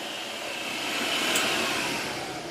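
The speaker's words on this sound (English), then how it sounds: "Turn that on, that turns on your vacuum." An ICE i15B floor scrubber's vacuum motor runs steadily, a loud continuous whirring hum with a broad airy hiss that holds even throughout, with no talking.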